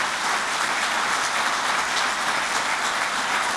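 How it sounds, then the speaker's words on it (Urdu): A large audience applauds at an international mushaira poetry gathering, steady sustained clapping filling the hall at an even level from start to finish. "ان کے لیے تالیاں بجائیں کہ وہ یہاں موجود ہیں"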